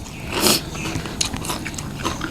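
Crunchy fresh green papaya salad with large apple snails being bitten and chewed up close, with loud wet crunches and a strong bite near the start, followed by steady munching.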